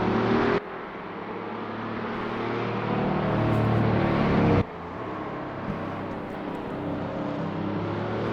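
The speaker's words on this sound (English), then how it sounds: "our entire grid rolling towards the start" A grid of race cars rolls toward the start at Dubai Autodrome at sunset, a steady loud engine drone with a sharp cut partway through and a continuous roar resuming, no voices.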